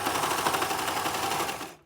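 A sewing machine stitches a cardigan cuff in a quick, steady rattling run of needle strokes, close and alone, stopping abruptly at the end.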